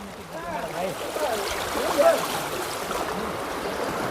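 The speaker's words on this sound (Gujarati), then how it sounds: "બહુ જોરથી પાણી આવી રહ્યું છે" Floodwater rushes hard through a flooded village as a steady, close wash of churning water, with someone talking over it.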